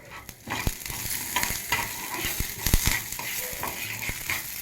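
Curry leaves fry in a little oil, with a close, crackling sizzle and several sharp clicks and scrapes of stirring in the pan, all steady and without talk.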